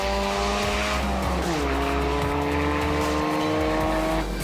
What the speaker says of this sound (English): Davies versus Gearing as they head round the bend and down the hill.